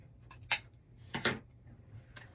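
Scissors trim ribbon while a bow is being made, giving a few quick, close snips in near silence.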